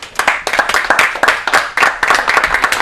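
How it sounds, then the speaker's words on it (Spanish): Enthusiastic applause from a crowd, dense clapping with sharp bursts throughout, loud and close. "la doctora Natalia Ferrero, para quienes pedimos un aplauso también."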